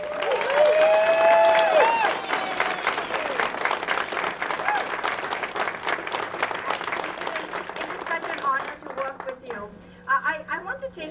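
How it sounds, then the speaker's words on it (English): Library staff at a centennial celebration receive a round of applause, loud clapping from the audience at the start that fades over several seconds, with talking underneath. "everyone just give them a round of applause"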